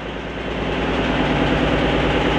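Auxiliary engine number 1 running in a ship's engine room, a steady, loud mechanical drone with a constant low rumble and dense hum that holds unchanged throughout, no voices.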